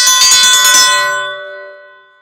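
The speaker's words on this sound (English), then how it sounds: "I'll ring the dinner bell and let the gang know it's time to eat" A dinner bell rung outdoors to call people to eat, a loud bright clanging for under a second, then a long ringing tone that slowly fades away.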